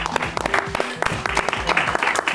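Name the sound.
audience applause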